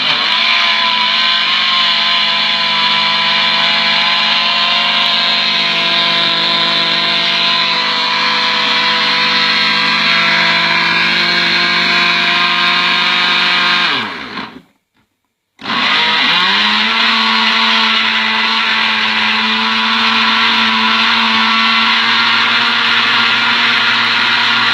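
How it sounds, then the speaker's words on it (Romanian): A kitchen blender runs loud and steady with a whining motor drone, cuts out briefly about halfway through, then starts up again and keeps running to the end. "Și dăm drumul la blender."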